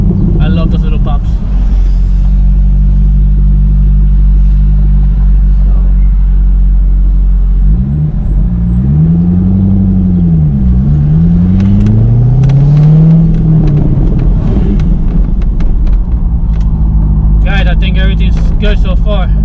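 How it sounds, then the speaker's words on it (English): C6 Corvette, just after a spark plug change, with a heavy engine drone that rises and falls as it accelerates through the gears, loud and close under talking, with crackling exhaust pops near the end. "I love those little pops."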